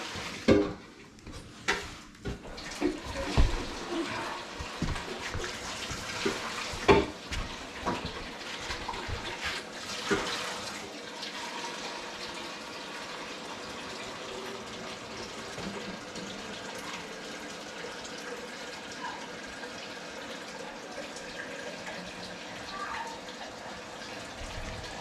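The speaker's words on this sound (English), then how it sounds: "We're gonna pour some fresh water in to make sure we get all the vinegar out of it." Fresh water poured into a Primo water dispenser, starting with sloshing splashes and knocks, then settling into a steady, gentle trickling and gurgling flow that continues quietly to the end.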